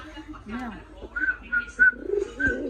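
Pigeons give soft, repeated throaty coos close by, several calls in short succession, mixed with a voice speaking in between.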